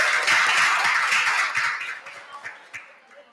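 A church congregation applauds the Lord during a sermon, a dense wash of many hands clapping together that holds strong for about two seconds, then thins into a few scattered claps as it dies away.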